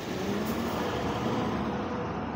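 A six-wheeled Leyland container truck with Maharashtra plates runs underloaded on the road, its engine giving a steady, close rumble with a broad road-noise hiss and no speech.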